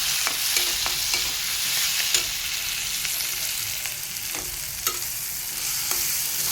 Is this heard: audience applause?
no